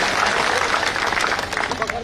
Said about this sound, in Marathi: एकदा जोरदार टाळ्या होत्या